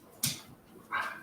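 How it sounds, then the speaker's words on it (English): Two short, sharp dog barks close by, separated by a brief pause, with a quiet room in the background during a New Year livestream about beer. "Sounds like Ben's got a dog excited for the new year."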